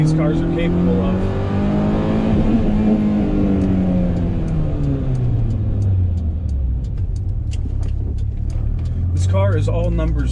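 A BMW E30 M3 on a cold, wet, slippery road, its engine revving hard as the car accelerates, pitch climbing through the gears and then dropping back to a low rumble, loud and close throughout.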